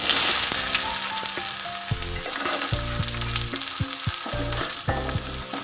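Onions and whole spices, including star anise, fry in hot oil for dhaba-style palak rice, a strong, continuous sizzle with stirring that runs throughout, accompanied by tonal background music.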